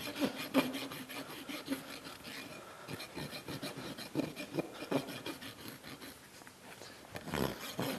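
A farrier's rasp strokes back and forth over a horse's hoof wall in quick, rhythmic, gritty scrapes. Close and fairly faint, with no voices.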